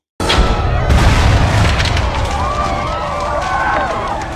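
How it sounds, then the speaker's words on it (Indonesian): A loud, sudden explosion in a TV series blows apart a pile of money in the middle of a street, with a sharp blast followed by a long, dense rumble of scattering debris and fire. "Kelompok Jenderal Lut meledakkan bongkahan uang yang membuat semua uang itu berterbangan"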